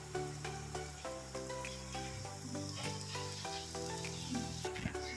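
Garlic, green chili and onion frying in a pan for a bhindi masala, a steady close sizzle layered over sustained tonal background sound, with no talking.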